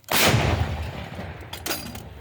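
An M119 howitzer fires a single round near Bakhmut, a sharp close blast that rolls into a long rumbling decay, followed by a second softer crack and echo.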